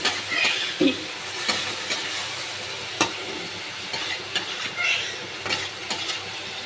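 Katla fish curry with potatoes sautés in a pan, making a loud, continuous sizzle close by, punctuated by regular scraping stirs and spatula knocks.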